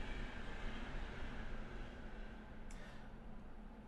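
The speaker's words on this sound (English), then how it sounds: "Let that train go by." A train rolls past in a puzzle video game, a steady, loud rumbling drone that holds throughout with a faint brief squeal near the end.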